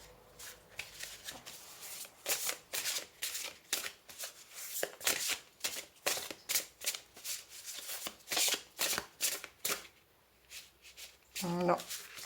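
Tarot cards are shuffled by hand in a long run of quick, crisp riffling bursts, close and clear, before a brief pause and a final short rustle.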